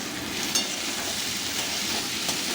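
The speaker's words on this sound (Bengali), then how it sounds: "মটরশুঁটি, কড়াই, গাজর সব দিয়ে ম্যাগি করছি।" Maggi noodles with potato, capsicum, peas and carrot cooking in a wok, a dense continuous sizzle with light stirring, close and loud, no voices.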